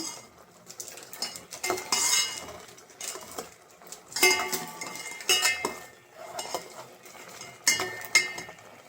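Chicken curry ingredients sautéing in a pan, with a spoon repeatedly scraping and clinking against the metal in irregular bursts, close and fairly loud, no speech.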